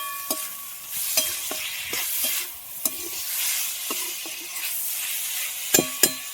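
Tomatoes being stirred with salt in a hot pan while cooking Maggi noodles: steady sizzling with repeated scraping and clinking of a spoon against the pan.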